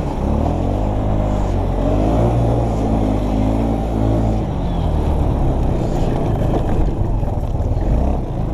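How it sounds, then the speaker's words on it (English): A Honda 350 ATV engine drones loudly and steadily under engine braking while rolling downhill through a powerline trail, with a low rumbling tone and slight shifts in pitch throughout. "The Honda does not have good engine braking."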